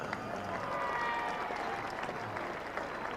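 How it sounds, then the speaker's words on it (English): Crowd at a 1977 Ashes Test match in England applauding batsman Geoffrey Boycott, steady ground-wide clapping heard from a distance. "a knowledgeable crowd here applauding Boycott"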